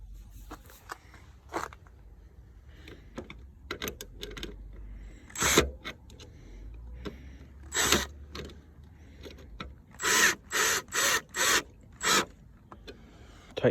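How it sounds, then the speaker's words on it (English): A hand drill drives a self-tapping screw through metal to fasten a ground wire while wiring trailer lights on a Jeep Liberty. It comes as several short, loud, buzzing bursts, the last five in a quick, evenly spaced run. "I'm just gonna hit it with the drill bit"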